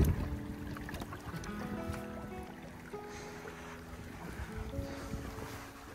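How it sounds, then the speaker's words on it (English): Wind gusts across a microphone outdoors at a gold-prospecting site with a 12-volt highbanker, a rumbling, rushing noise that swells and eases over a steady machine hum, with no talking. "The wind keeps coming and going."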